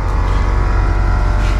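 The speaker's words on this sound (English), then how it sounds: "Maybe you hear the air compressor running." An air compressor on an MCI MC9 bus runs steadily during an auxiliary air fill, a loud continuous low mechanical drone with no breaks, close by.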